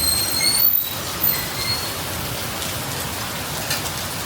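Heavy rain falls in a steady close hiss, one louder gust of noise early on, with no voices.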